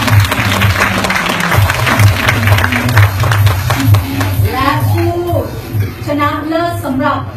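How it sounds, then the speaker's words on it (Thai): Audience applause at an environmental award ceremony in Thailand, with steady clapping from the crowd alongside music and speech. "ขอเสียงปรบมือต้อนรับ"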